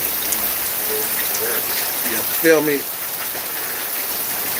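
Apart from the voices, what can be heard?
rain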